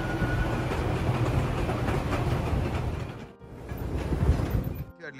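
Miniature train ride in a state park in Mena, Arkansas, heard from on board as a steady rumbling roll of wheels and engine, loud and close, briefly dipping before rising again.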